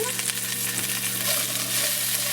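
Asparagus sizzles and crackles steadily in a hot pan, a close, continuous frying hiss with no voices.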